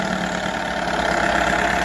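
A 1978 Johnson 6 hp outboard motor runs at a steady idle, a loud even buzzing drone with a fast regular pulse, close by and without talking.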